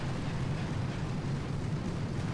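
A gunboat barrage in Boom Beach pounds the target in a dense, continuous rumble of overlapping explosions, loud and steady throughout with no voices.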